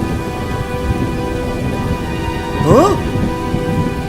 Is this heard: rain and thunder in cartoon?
yes